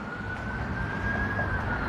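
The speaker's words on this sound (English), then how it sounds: "Ambulance." An ambulance siren holds a steady, high, slightly rising tone, mid-distance, over a continuous low traffic rumble.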